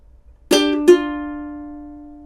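A ukulele picks two single notes from Make Me a Pallet on the Floor, close and clear, with the second following quickly and ringing out in a long, slowly fading decay.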